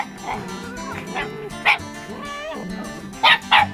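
Hunting dogs attacking a large raccoon in South Texas let out a few sharp yips and barks mixed with whining, close by, over a rumbling background and some voices.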